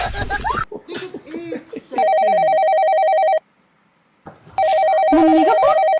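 An electronic phone ringtone plays loudly in two bursts separated by a short pause, with people talking and giggling nearby before the first ring.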